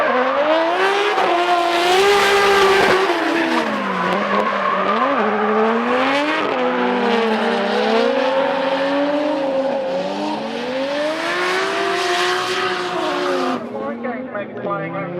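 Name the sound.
drift cars racing through S-bends, engines revving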